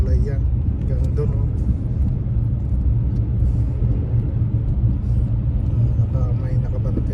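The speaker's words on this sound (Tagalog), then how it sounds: "Ito, nagka-traffic kasi may construction dito" Heavy road traffic rumbles steadily beside a large bridge overpass under construction, with a constant low engine drone and occasional passing vehicles, and someone talking over it.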